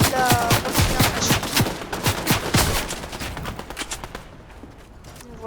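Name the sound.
gunfire in Fortnite video game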